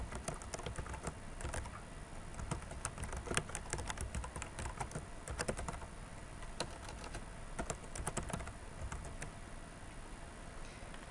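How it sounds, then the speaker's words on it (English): Computer keyboard clatters with steady, quick typing as a form name is entered, a continuous patter of close, soft keystrokes with no speech. "I'll type in the name of the form that I'm creating."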